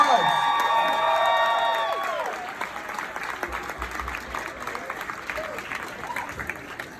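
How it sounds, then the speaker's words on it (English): An audience at Idina's Apple event greets People Magazine staff writer Jeff Nelson with a loud round of applause and high cheers and whoops for the first two seconds. Steady clapping then carries on, thinning slightly toward the end. "Give him a big round of applause."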